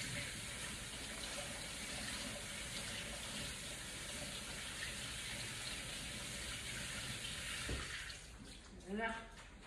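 Tap water runs steadily onto vegetables being rinsed in a kitchen sink, a continuous close rush that cuts off near the end, followed by a brief clatter and faint dripping.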